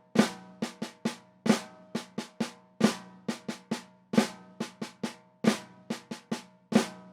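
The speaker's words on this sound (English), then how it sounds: "So that's the Flam drag rudiment." Snare drum played alone in the flam drag rudiment, close and crisp: accented flam strokes followed by quick double-stroke drags, repeating in a steady pattern of sharp hits.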